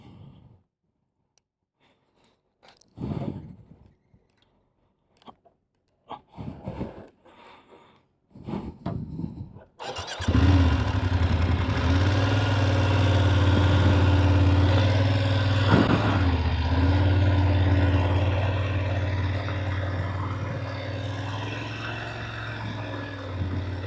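A motorcycle rolls along steadily at about 9 mph with throttle and clutch held set during slow-speed U-turn and serpentine riding practice, its engine a continuous, fairly loud drone after some scattered handling noises at the start.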